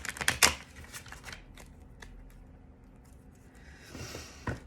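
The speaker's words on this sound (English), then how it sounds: "And now I will pull some clarifiers as I sit with these initial cards." Tarot cards being drawn and handled, with a brisk flurry of riffling, snapping card sounds up front, then softer slides and taps, close and quiet with no talking.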